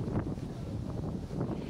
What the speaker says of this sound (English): It's windy today, so I'm not sure if you'll be able to hear my voice above the wind